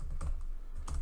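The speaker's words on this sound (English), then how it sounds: "forgot the e again, sorry for my typing right now" Keys clack on a computer keyboard in a few quick close taps across a single second, with no voice over them.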